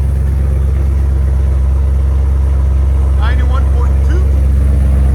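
An E85-tuned Chevy Camaro LT1 6.2L V8 with headers and OBX mufflers idles with a deep, loud, steady lumpy rumble close by, while people talk briefly over it.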